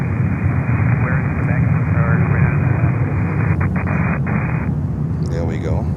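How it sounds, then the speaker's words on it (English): An Amerijet Boeing 767-300 cargo jet on the runway at Miami airport produces a continuous, heavy, low engine roar, with radio voices talking over it. "And now Amerijet 767-300 on the north side, runway 8."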